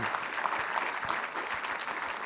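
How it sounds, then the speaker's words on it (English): A lecture audience gives a brief, steady round of applause for the dean's office staff, a soft, even wash of clapping heard alone. "let's give them a round of applause"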